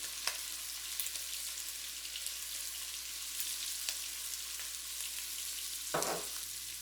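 Browned ground beef with garlic powder, cumin and chili powder sizzling in a pan, a soft steady frying hiss with a few faint scrapes of stirring, close and quiet.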